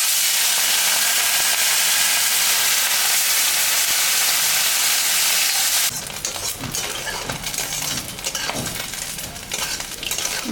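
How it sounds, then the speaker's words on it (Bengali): Salted, turmeric-rubbed small fish fry in hot oil with a loud, dense hiss, then the sizzle drops and becomes crackly and uneven, broken by a few clinks of a utensil against the pan. "মাছটা এখন আমি ভাজবো।"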